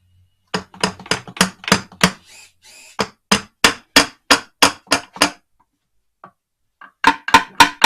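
Repeated sharp hammer blows strike a tab during transmission work on a Ford Festiva, a fast run of about a dozen loud metallic hits, a pause, then another quick burst.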